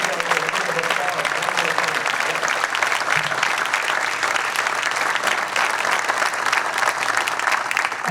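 An audience at a Crystal Apple teacher awards event applauds, a continuous, full clapping sound held at even loudness throughout with no pauses.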